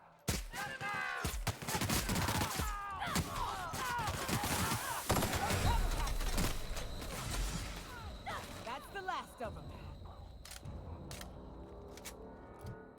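Gunfire from the video game The Outer Worlds: loud, rapid volleys of shots and bursts crowd the first half, then thin out into scattered single reports, with a voice heard at times.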